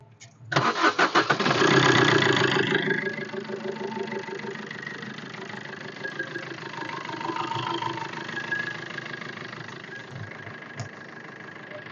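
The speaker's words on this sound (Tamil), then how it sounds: "இன்ஜின் சவுண்ட் எப்படி இருக்குங்கிறத பாருங்கள்" A Maruti Breeza ZDi+ engine cranks and catches with a loud burst, then settles into a steady, lower idle that runs on for several seconds.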